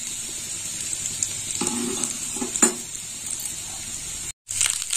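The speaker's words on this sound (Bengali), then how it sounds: "ওলটা বেশ ভাজা হয়ে গেছে।" Boiled elephant foot yam frying slowly in a pan over low heat, a steady close sizzle with occasional stirring scrapes and a brief gap near the end.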